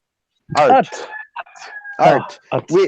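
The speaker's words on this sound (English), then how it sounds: "The rooster is very vocal and joins right in" A rooster crows close by, loud harmonic calls rising and falling in several bursts, mixed with a few shorter clucking sounds.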